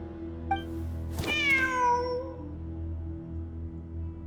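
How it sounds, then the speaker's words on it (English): A single drawn-out cat meow rises and falls over a steady low ambient hum in a mysterious-realm video game, clear and fairly close, with no talking. "Wait, there it is! The cat!"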